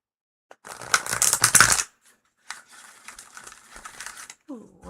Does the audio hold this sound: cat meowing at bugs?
no